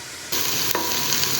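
Onions fry for Armenian spas soup, with a sudden loud, steady sizzle as they hit the hot pan and a brief stir partway through, continuing without talk.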